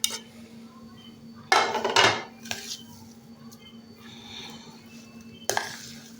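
A spoon or utensil scrapes and clanks in a bowl as mashed potatoes are mixed with herbs and spices, with a few sharp knocks against the bowl between quieter stirring.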